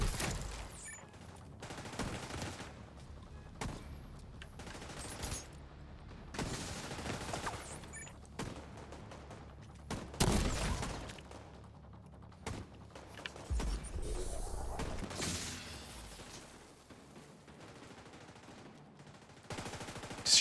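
Video game gunfire with many dense bursts and rapid volleys that recur throughout, loud and fairly close, with occasional heavier thumps mixed in.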